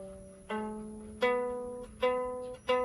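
Plucked lyre strings after retuning, four separate notes each decaying with a faint rattling buzz in the tone, heard alone and quiet.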